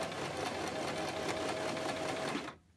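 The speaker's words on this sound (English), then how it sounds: "is simply sewing along this bottom edge to create a casing for the elastic" A sewing machine runs steadily, stitching along the bottom edge of a ruffle skirt to form an elastic casing. The close, even mechanical whir lasts over two seconds and then stops, with no talking.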